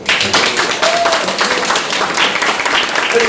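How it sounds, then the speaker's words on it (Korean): Applause from an audience at an anti-corruption talk concert, dense steady clapping filling the hall at full loudness for the whole stretch, with crowd noise mixed in. "박수 한번 보내주시죠"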